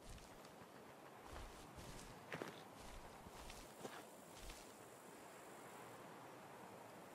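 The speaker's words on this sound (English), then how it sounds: "You can hear his footsteps." Footsteps of a figure in a dark jacket sneaking around a corner in a hardcore open-world survival game, a few faint, scattered steps against a steady windy outdoor ambience, no talk.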